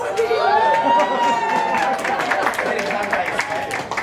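Crowd at a music venue during a reptile show claps and cheers amid loud, overlapping voices and chatter. A high whoop rises early on, and scattered claps continue beneath the noisy talk.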